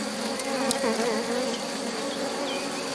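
Honeybees from a drone-laying colony buzzing densely at an opened hive, a constant close swarm drone with individual bees passing near, no talk over it.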